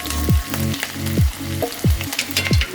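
Stirring a mixture of frying ingredients with green chilli in a pan for Kerala-style drumstick leaf curry: a steady sizzle runs throughout, broken by five evenly spaced scraping strokes of a spoon against the pan, close and fairly loud with no talking.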